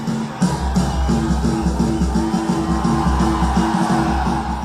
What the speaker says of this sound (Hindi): अपने मुल्क और अपने जवानों के सम्मान में नारेबाजी।